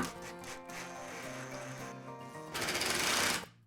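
A power driver runs screws into a timber stud wall in an old doorway, giving a close, steady, tonal motor whine that grows louder and harsher near the end as the screw bites.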